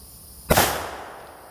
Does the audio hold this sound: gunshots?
yes